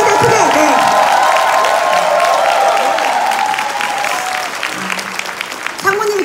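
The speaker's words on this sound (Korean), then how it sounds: "지금까지 우리 감사의 한번 큰 박수 부탁드리겠습니다." Seminar audience applauding loudly and steadily at a leaders' speech and closing session in a hotel, dense clapping with some cheering filling the whole stretch, tapering slightly near the end.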